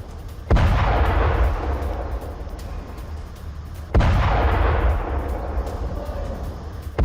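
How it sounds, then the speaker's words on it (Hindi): Israeli air strikes in southern Lebanon land as two heavy, booming explosions a few seconds apart, each a sharp blast followed by a long rumbling decay. "दक्षिणी लेबनान में एयर स्ट्राइक की ये तस्वीरें।"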